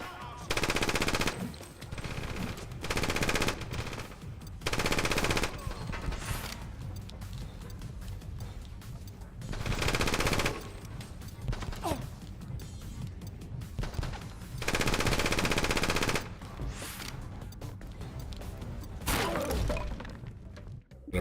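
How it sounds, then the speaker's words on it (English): Rapid retro video game gunfire comes in repeated loud bursts of a few seconds each, separated by quieter stretches of background game noise. "Who's shooting at me?"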